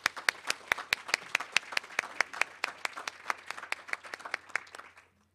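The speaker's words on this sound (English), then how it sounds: "I wonder if you all would join me in a round of applause for this astounding organization." A small audience gives a round of applause at a National Press Club briefing, with steady, crisp claps at a brisk even rhythm for about five seconds before stopping abruptly.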